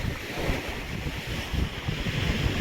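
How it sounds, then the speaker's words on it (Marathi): Sea waves break and wash on Vengurla beach on the Konkan coast, a steady hissing surf mixed with wind buffeting the microphone, with no voices. "केवढी आली लाट"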